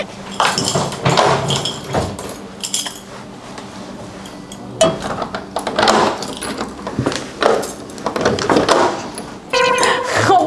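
A hotel room door in Rome rattles and clunks as someone struggles with the handle and lock, with metallic clinks and knocks in uneven bursts, up close, mixed with talking.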